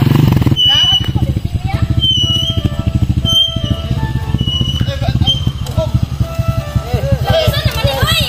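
Habal-habal motorcycle taxi engine running close by at a steady idle and rev, a rhythmic putter throughout, with people talking nearby and a chirping sound toward the end.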